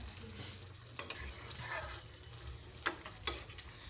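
Mutton and potatoes fry in a pan with a steady low sizzle, broken by a few sharp scraping clinks of a spoon stirring against the metal.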